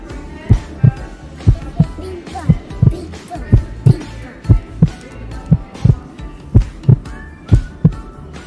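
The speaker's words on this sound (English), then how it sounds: "That's heartbeat." A children's toy plays a steady electronic heartbeat, a regular thumping pulse in paired beats roughly once per second, loud and close, with a voice talking faintly in the background.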